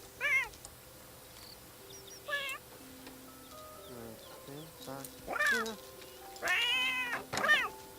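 A cat in The Sims 3 meows repeatedly, with several short, distinct calls spread across the span, some drawn out and wavering, heard clearly over a quiet game background.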